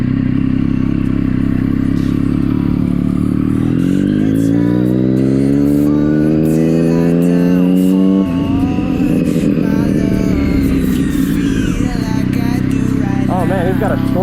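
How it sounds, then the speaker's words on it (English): A motorcycle's exhaust roars up close while riding: the engine revs climb in a rising sweep, drop at a gear change, then build again over heavy wind rush. "I like your exhaust better."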